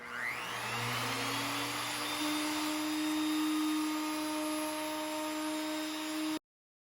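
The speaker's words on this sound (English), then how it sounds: "now we're going to route off the end a little bit better" A power router trims the end of a walnut table top, a steady loud whine that rises in pitch as it spins up, holds constant for several seconds, then cuts off abruptly.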